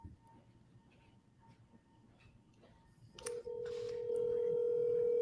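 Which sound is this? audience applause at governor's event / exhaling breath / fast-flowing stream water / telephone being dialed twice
telephone being dialed twice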